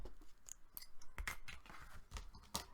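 Scissors snipping through paper for a folio accordion pocket: a handful of quiet, crisp cuts spaced irregularly, close and faint.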